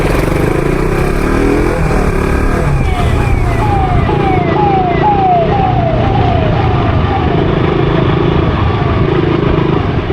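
An ambulance siren wails in a repeating rising sweep through heavy Bangalore traffic, loud and close, mixed with motorcycle and car engine noise throughout.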